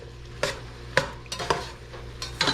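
A spoon stirs chili powder into simmering chili for Frito pie, producing a few distinct scraping strokes at a loose rhythm over a soft, steady sizzle.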